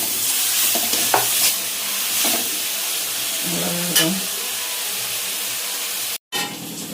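Vegetables frying in a pan for chicken fried rice, a steady close sizzle with intermittent scraping stir strokes and a few louder clinks of the spatula.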